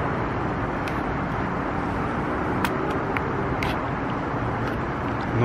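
Steady broadband rumble of road traffic on the A27, continuous and fairly loud, with vehicles passing by at a constant drone and no voices.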